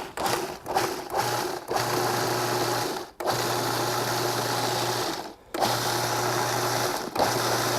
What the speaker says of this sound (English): I'm gonna pulse our food processor just to get all of this stuff kind of roughly chopped and blended up in there